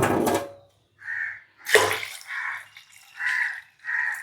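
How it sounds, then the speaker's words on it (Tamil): Water is poured from a cup into a cooking pot while making Jaffna-style mudakathan rasam, coming in several short splashing bursts separated by pauses, close and fairly loud. "பெரிய ஒரு கப் தண்ணி விடுவோம்."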